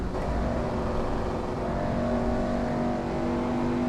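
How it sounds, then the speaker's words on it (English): Historic 1959 Formula 1 racing cars at the AVUS circuit in Germany roar past as a dense, continuous engine drone with overlapping whining tones at steady loudness, no voices. "You're going to see the other cars pass by on the left now."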